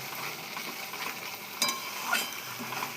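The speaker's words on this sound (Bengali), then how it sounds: "লঙ্কা হলুদ সবই দিয়ে দিলাম, দিয়ে ভালো করে কষাচ্ছি" Chili and turmeric spice paste fries in a pan with a steady, soft sizzle, while two brief louder scrapes of stirring stand out near the middle and end.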